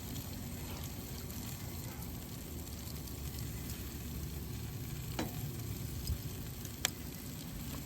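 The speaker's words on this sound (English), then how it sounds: "Got the onion grilling in there" Onion and potatoes sizzle steadily on an outdoor grill, a constant crackling fry with a few small pops and clicks near the end, no voices.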